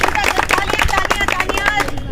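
Children clap during a classroom language activity, quick uneven bursts of claps mixed with chatter and voices, close and lively throughout.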